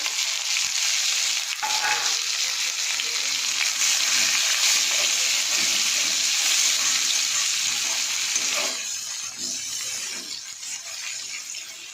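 Onion frying with paneer and cumin in a pan, a strong continuous sizzle heard up close, with stirring clatter and a slight drop in loudness toward the end, no talking.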